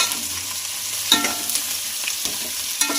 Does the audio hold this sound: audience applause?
no